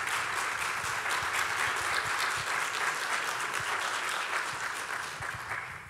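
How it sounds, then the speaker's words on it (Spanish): An audience at a piano concert applauds a composer, a steady broad patter of many hands clapping at moderate level that holds throughout and begins to fade in the last second. "Un aplauso para ella."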